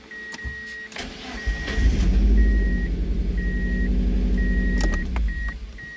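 A 1999–2005 NB Mazda Miata MX5, due for a tune-up and fitted with a budget replacement battery, cranks briefly, catches and settles into a loud, steady idle, with a repeating electronic chime beeping over it.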